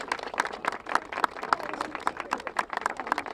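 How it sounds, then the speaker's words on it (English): Audience applause at a House Republican event on abortion legislation: steady, dense clapping from a crowd with a regular pulsing rhythm of sharper claps, moderately loud and continuous throughout, with no talking over it. "Give them a round of applause."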